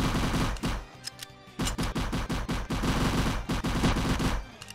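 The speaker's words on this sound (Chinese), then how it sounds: "有人在射击我吗？" Gunfire in a Roblox zombie-apocalypse bunker game: loud rapid bursts of automatic shots in steady rhythm, one brief pause then a long sustained volley, close and dominant with no talk.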